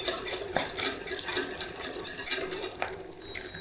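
A utensil scrapes and stirs a hazelnut and cereal praliné caramelising in a pan, with repeated close scratching strokes and metallic clinks in an uneven rhythm and no speech.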